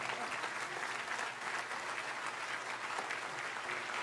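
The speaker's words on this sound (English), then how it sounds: "give a round of applause to your parents and to the faculty" Audience applause at a college commencement ceremony, steady and even clapping from a large crowd, heard at moderate distance and without a break.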